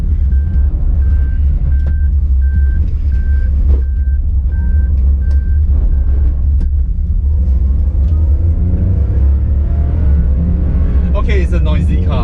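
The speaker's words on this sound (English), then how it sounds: "Okay, it's a noisy car." A noisy 2018 Perodua Axia 1.0 driving, with a steady low engine drone and road rumble throughout, a repeating electronic beep early on, and someone talking inside the car.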